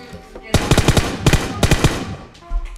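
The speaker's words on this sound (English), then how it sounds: "I'm just gonna shoot her to her death." Rapid bursts of automatic gunfire from the video game PUBG Battlegrounds, loud and close, in two or three quick volleys over a few seconds.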